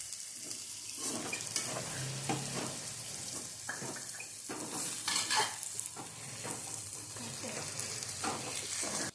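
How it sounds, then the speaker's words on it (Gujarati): Onion frying with garlic in a pan for a Gujarati green turmeric curry, with a steady sizzle and intermittent stirring and scraping sounds throughout, no talking. "હવે આપણે જો લસણ સતળાઈ ગયું ને હવે આપણે આમાં ડુંગળી નાખવાની છે"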